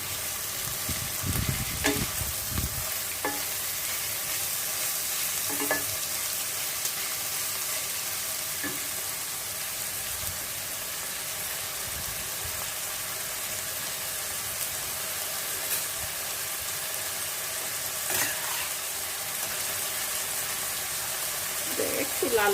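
Boiled potatoes frying in a pan for fried rice, a steady sizzle with occasional stirring scrapes and clinks, close and continuous.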